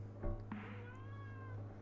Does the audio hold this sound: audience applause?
no